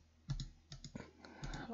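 A computer mouse gives several quiet, close clicks in quick pairs, with a soft tapping rhythm in an otherwise hushed room.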